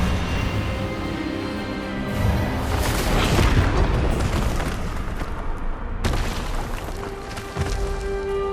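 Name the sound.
Expelliarmus spell cast in video game Hogwarts Legacy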